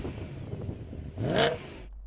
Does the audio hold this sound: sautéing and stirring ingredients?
no